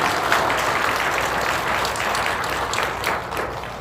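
A crowd at a large outdoor patriotic rally claps loudly for a speaker, a dense, continuous wash of applause that holds steady for the whole stretch and eases slightly near the end.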